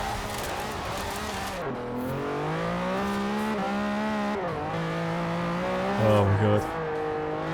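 A British classic car in Forza Horizon 4, built for drifting on sports tires, runs at full throttle, its engine note rising and falling through gear changes with a brief tire squeal, while a voice exclaims over it.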